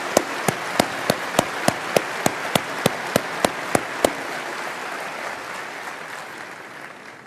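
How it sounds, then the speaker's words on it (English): A shareholder-meeting audience applauds in a steady, mid-distance wash, with one loud, close pair of hands clapping in a regular beat on top. The near claps stop after about four seconds while the crowd applause fades away. "Yeah, you ought to give them a hand."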